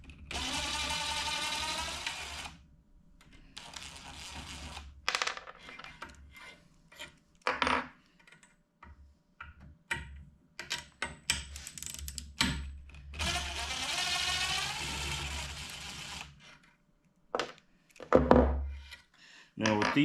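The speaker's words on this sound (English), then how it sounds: "I'm just going to take the socket, put it on there, and unscrew these" Socket wrench ratcheting and clicking as bolts are unscrewed during assembly of an Onefinity Elite Foreman CNC machine, with short metallic bursts between stretches of someone talking.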